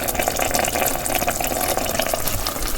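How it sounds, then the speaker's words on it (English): Pot of chicken soup with rice and vegetables bubbling on the stove, a steady close, loud burbling and gurgling with continuous fine popping and no speech. "Y'all hear that? It's bubbling."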